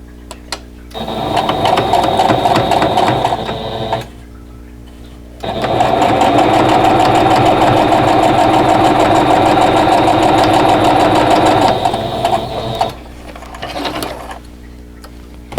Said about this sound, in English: And then I'll stitch on the last piece in the row.